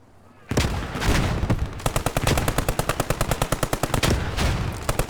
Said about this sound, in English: Keep that machine gun suppressing.